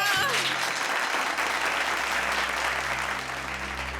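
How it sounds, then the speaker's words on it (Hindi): Loud, dense applause from a crowd, clapping steadily throughout at close range. "तालियां!"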